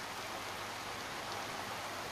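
Quiet, steady rainfall making a fine, even patter and hiss at a low level throughout, with no voices.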